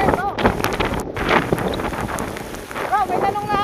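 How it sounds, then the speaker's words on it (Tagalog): Strong typhoon wind buffets the microphone at the seaside, a steady broadband roar with gusts, while people talk intermittently over it. "Malakas na ang hangin bro."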